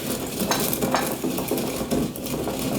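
Chili being ground in a mortar and pestle while cooking wild broad-leaved dock, a close, loud, rhythmic scraping and grinding in repeated strokes, with no speech.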